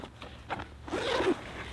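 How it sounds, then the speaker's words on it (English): The two-way zipper on a US Marines ILBE assault pack is pulled open close to the mic, a loud rasping zip that builds into one long sweep after a few short tugs. "you have the 2-way zippers."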